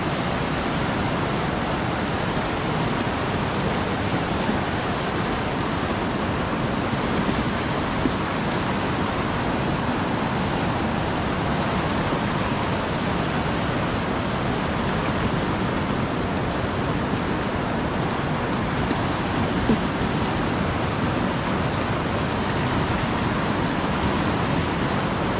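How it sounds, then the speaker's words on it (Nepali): The flooding Nisdi Khola river rushes past in a loud, dense, unbroken roar of turbulent water that stays constant, with no voices. "पानी आउने क्रम जारी छ।"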